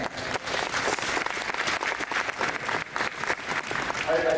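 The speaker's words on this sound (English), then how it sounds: "So let's give them a round of applause." A small audience at a youth football session gives a round of applause for a U12 team, the clapping steady and fairly close for about four seconds before it thins out.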